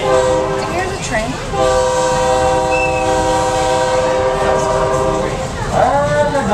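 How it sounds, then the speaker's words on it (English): A Thomas the Tank Engine ride train sounds a long, loud, sustained multi-tone horn blast lasting several seconds, with a second swelling horn call near the end, over steady rumbling rail noise. "Here's a train."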